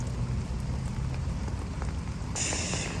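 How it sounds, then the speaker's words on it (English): Heavy rain pours down outdoors over a garden with hostas, a dense, steady hiss of drops close by that swells louder near the end, with no voices. "since we're getting a downpour"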